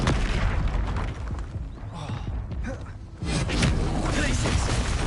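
Hogwarts Legacy video game combat as the Expelliarmus spell is cast, loud booming impacts and crackling blasts over several seconds, dipping briefly in the middle before another strong burst, with no talking.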